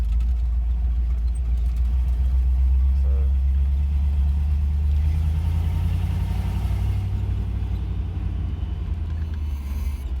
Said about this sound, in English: Let you hear that V8.